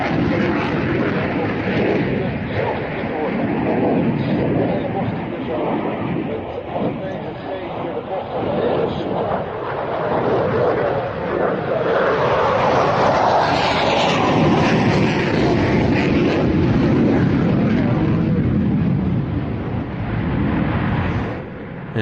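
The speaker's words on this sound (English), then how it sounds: "the Finnish Air Force here, their always impressive F-18C Hornet solo display" Finnish Air Force F-18C Hornet jet flying a solo display at an air show, a loud continuous roaring jet engine that surges and shifts in pitch as it passes, with a commentator talking over it.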